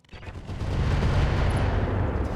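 A Longbow mech in RogueTech fires on a Templar, a heavy rolling missile barrage of booms and rumbling blasts that builds quickly and stays loud and continuous, with no talk.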